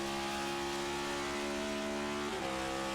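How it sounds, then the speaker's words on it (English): A race car engine drones steadily at the Miami 400 and then briefly jumps in pitch as the driver downshifts from fifth to fourth gear. The sound is a continuous, dense roar with no pauses. "You can hear the rev spike up when he downshifts."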